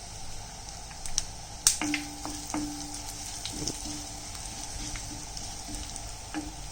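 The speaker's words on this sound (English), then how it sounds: "I am putting asafoetida and cumin seeds," Asafoetida and cumin seeds sizzle in hot oil, a soft, steady crackle with a few sharper pops near the start and no voices.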